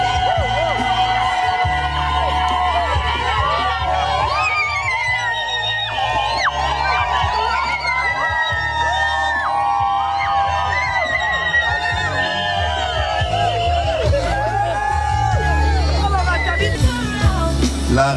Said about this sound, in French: Est-ce qu'on peut applaudir pour le cortège également?